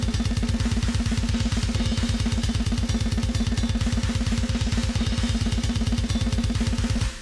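Mixed metal drum bus with a punchy, heavily processed snare, playing a fast, dense, relentless pattern of driving kicks and cracking hits that stays loud and steady throughout, with no voices.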